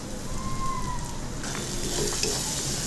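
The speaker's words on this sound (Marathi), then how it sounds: "आणि ते पाणी आटेपर्यंत आपल्याला त्याला फ्राय करून घ्यायचं" Spiced onion-tomato masala for an Indian egg curry fries in a pan as its moisture cooks off, a constant near hiss that brightens and grows slightly louder partway through, with no talking.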